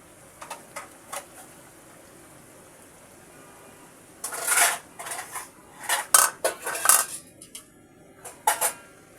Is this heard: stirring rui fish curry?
yes